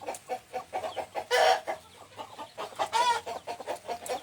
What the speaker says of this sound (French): Ici, nous avons la femelle et les petits poussins.